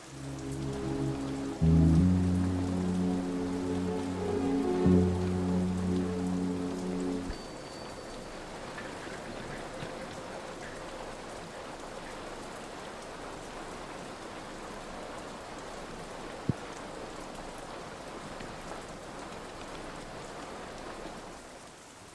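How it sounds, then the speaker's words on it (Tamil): Steady rain falls at night outdoors, a dense even hiss that carries on alone after a short passage of tonal music at the start, with one sharp brief knock partway through. "வெளியில மழை பெஞ்சிட்டு இருக்கு"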